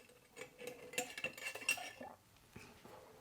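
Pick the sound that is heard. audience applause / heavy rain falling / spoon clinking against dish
spoon clinking against dish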